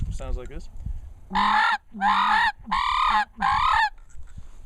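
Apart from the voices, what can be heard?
sandhill crane hunting call being blown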